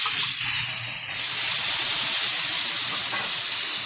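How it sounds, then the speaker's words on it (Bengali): A splash of water hits hot spice paste of cumin, ginger and chilli frying with potato and brinjal for a rohu fish curry, giving a loud, steady hiss and sizzle close by. "একটু জল দিয়ে দিচ্ছি মশলা ধোয়া বাটিতে।"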